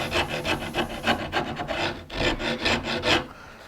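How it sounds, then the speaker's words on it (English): A rasp filing the back edge of a wooden Tudor rose carving, rhythmic coarse scraping strokes, about a dozen back-and-forth passes close by, with a short pause midway and no talking. "I'm going to use the rasp here"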